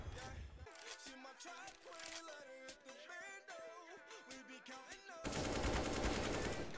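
Video game gunfire crackles in rapid bursts of shots over a busy, tonal game soundtrack, ending in a dense, loud wash of noise.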